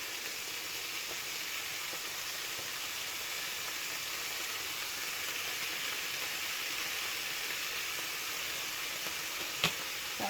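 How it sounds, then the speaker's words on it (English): Bacon and onions frying in oil in a pan, a steady soft sizzle and hiss throughout with a single faint clink near the end. "then I'm going to add in the bacon and the onions at the same time"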